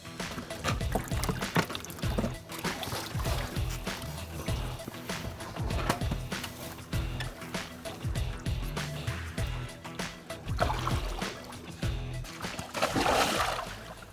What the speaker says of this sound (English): Just give me about 2 inches of water in there